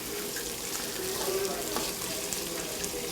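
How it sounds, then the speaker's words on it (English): Onions frying and caramelizing in a pan for a vegetarian curry, a steady close sizzle with a faint occasional stir or clink. "The longer you cook it, the more the onions get caramelized,"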